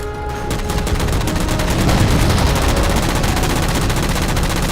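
A Halo 4 weapon fires at jammers in a steady, loud stream of rapid gunshots, dense and continuous throughout with no talk.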